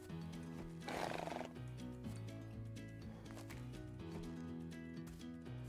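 Horse neighing in the Animal Shelter video game, a loud whinny near the start followed by softer snorts and breathy calls over a low tonal game background, with no speech.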